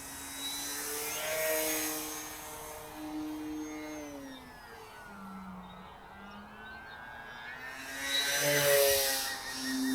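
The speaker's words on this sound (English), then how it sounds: "Can really do really nice and smooth takeoffs with this plane as well." An E-Flite Decathlon RC model plane flying overhead, its electric motor whining steadily and rising and falling in pitch as it passes nearer and farther, fairly loud with no voices.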